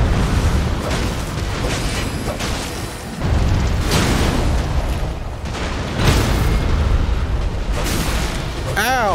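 Heavy booming impacts in Elden Ring as the player's character takes fire, a series of loud, rumbling blasts spread across the clip and heard close over a constant game backdrop.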